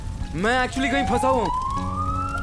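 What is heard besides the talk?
fire brigade siren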